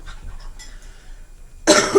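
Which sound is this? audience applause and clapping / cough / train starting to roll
cough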